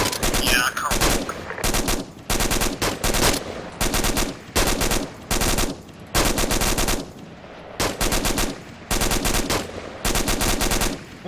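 Suppressive automatic fire during platoon reaction-to-fire training hammers out in loud, close, repeated bursts, each about a second long, separated by brief pauses in a steady rhythm.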